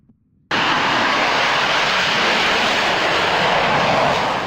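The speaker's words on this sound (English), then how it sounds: "There's nothing like the roar of a Blue Angels jet." A Blue Angels jet roars in abruptly after a short quiet moment, then holds as a loud, broad, steady rush of engine noise that fills the rest of the moment.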